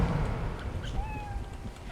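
A cat in the Dragon Age Origins video game gives a brief, faint meow over steady background game noise.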